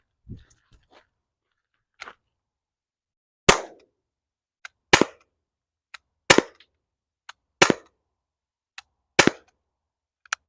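Crosman 12g CO2 cartridge in an air pistol firing 2.8 gram nylon balls: a string of sharp, dry pops spaced about a second apart, close and loud, with faint clicks between shots and no talking.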